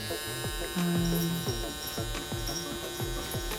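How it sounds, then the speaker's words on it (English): Lip blush tattoo needle machine buzzing steadily at close range during lip neutralization work, a continuous electric whine with regular rhythmic pulses and a brief louder tone near the middle. "I've gotten a hang of the feeling of the needle, so I can move a little faster on myself"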